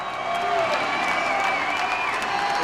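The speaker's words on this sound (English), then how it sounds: "listen to the crowd" Crowd at a boys' volleyball championship applauding and cheering, a dense steady roar of clapping and voices filling a gymnasium, with a commentator talking over it.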